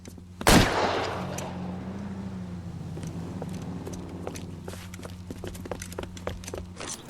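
A sharp gunshot cracks out early in an L.A. Noire shootout at a tin shack, followed by scattered lighter pops and clicks over a steady low engine-like drone, with no talking.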